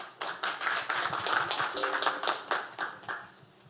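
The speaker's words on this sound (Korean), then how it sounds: "큰 박수로 환영하도록 하겠습니다" Indoor audience applause welcoming a presenter at a Sogang University forum, a steady patter of clapping from a modest crowd lasting a few seconds.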